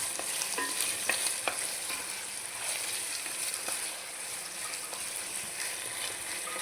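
Chicken pieces frying with softened onions in a pan, a steady close sizzle with scattered stirring clicks and scrapes throughout, no voices.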